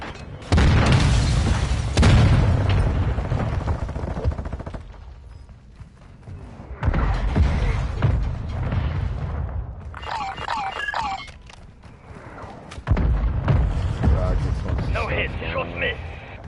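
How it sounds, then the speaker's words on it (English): Mortar strike in the video game Warzone 2.0, several loud booming explosions arriving in bursts with rumbling tails, separated by quieter stretches of mechanical clatter and faint game chatter. "Mortar strike inbound now."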